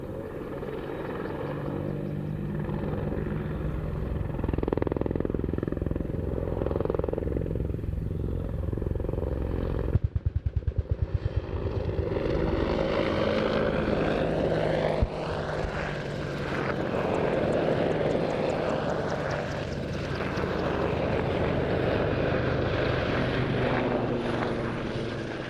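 An Army Air Corps attack helicopter flies a display at the Royal International Air Tattoo 2025, its engine and rotor roar loud and continuous, with a sharp burst of rapid blade thumping near the middle.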